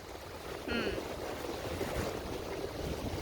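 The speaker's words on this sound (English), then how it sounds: "So the wind is strong here, the currents are strong" Strong wind blows over a boat on the Mississippi River, a steady rough rush of wind noise with lapping water beneath it and a brief faint voice partway through.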